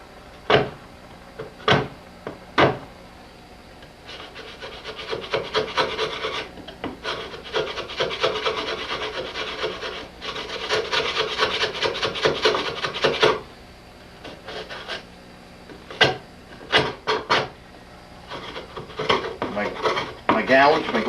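A rasp roughening the wood of a table under repair, a few sharp knocks and then long, dense scraping strokes in bursts, close and fairly loud, with scattered taps near the end.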